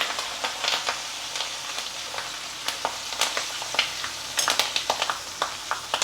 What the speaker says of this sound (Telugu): ఇక వేగిపోతాయి చక్కగా.